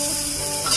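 Wild boar intestines and guava leaves are stirred in a pan, giving a short, steady scraping and soft sizzle up close with no talk.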